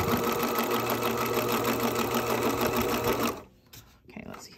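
A sewing machine stitches a knit neckband on a straight stitch in a steady, loud, continuous whir for over three seconds, then stops abruptly and leaves quieter handling noises.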